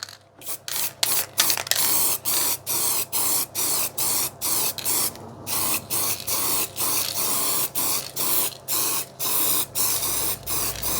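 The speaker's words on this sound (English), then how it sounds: "I'm going to etch prime it and then spray it." Rapid bursts of spray as U-Pol etch primer is sprayed onto a Proton Satria car door, a loud steady hissing repeated in short regular passes with brief gaps between them, close up and with no voices.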